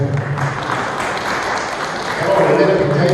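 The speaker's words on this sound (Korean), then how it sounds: "박수 한번 쳐주세요" Applause from an audience in an auditorium at an academic conference, a steady, fairly loud wash of clapping that rises slightly toward the end. Faint voices sit under it.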